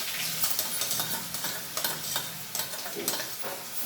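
Garlic paste sautéing in hot oil with cumin and hing, a continuous crackling sizzle with repeated stirring scrapes at an uneven rhythm, close and moderately loud.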